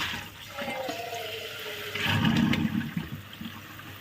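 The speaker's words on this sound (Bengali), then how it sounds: "ভালো করে আগে ধুয়ে নিই" Water runs from a tap while bottle gourd leaves are washed, with a gushing, splashing flow that swells louder partway through and then eases, close by.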